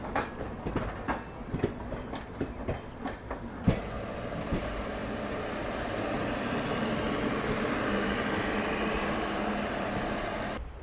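The Siddhbali Jan Shatabdi Express, a Delhi–Kotdwar passenger train, rolls past with a few sharp rail clicks and knocks at first, then a steady, fairly loud rushing rumble of wheels and carriages.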